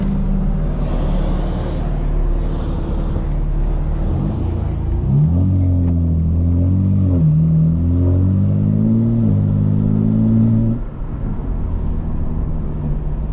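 A 2025 BMW M4 Competition, tuned to 900 hp, drives with its exhaust valves open in comfort mode, its engine a loud, close rumble that swells on acceleration through rising revs and then settles back.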